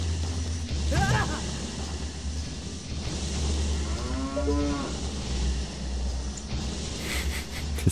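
A cow in the Zelda Ocarina of Time game gives a drawn-out moo, with a shorter lowing call before it, over a steady low game backdrop with no talking.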